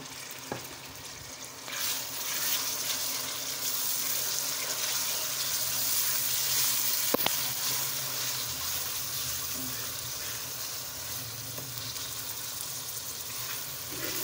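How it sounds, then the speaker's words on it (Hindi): Tomatoes frying with golden-browned onions in a pan, a steady close sizzle lasting throughout with occasional stirring clicks and a brief sharp knock partway. "अब इसके अंदर हम टमाटर ऐड करके अच्छे से फ्राई कर लेंगे।"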